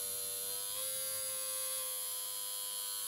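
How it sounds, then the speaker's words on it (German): An older-generation Märklin BR 212 / V100 model locomotive motor runs on a bench power supply with the voltage turned up, giving a steady, fairly loud electric buzz and whine that holds unbroken throughout. "nicht gerade leise Geräusch einer Märklin-Lok der älteren Generation"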